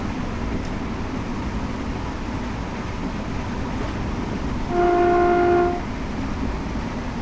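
A train passes in the opposite direction beside a First Capital Connect Class 365 Networker electric unit, giving a single clear horn blast of about a second over the steady rumble of the moving cab.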